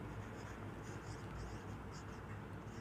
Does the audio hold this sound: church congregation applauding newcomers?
no